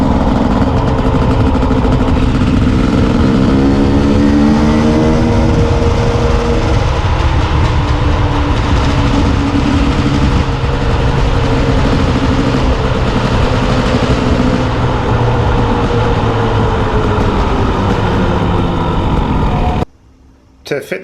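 A KTM two-stroke dirt bike engine idles and revs as it warms up, loud and close, with a steady buzzing drone that rises and falls in pitch before cutting off abruptly near the end.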